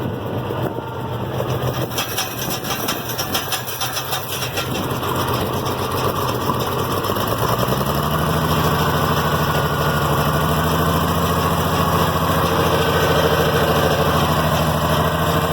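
An IH Farmall 706 tractor engine cranks and catches, then settles into a steady, loud, low diesel idle that runs on unbroken for several seconds.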